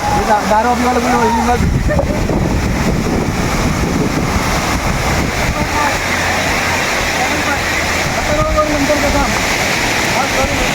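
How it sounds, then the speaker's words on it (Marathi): Steady roaring rush of a rain-fed waterfall fills the whole clip, with wind buffeting and a voice talking over it at times. "तुम्ही धबधबा हे बघा"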